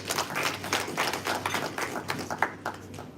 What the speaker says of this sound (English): So the clapping should be stronger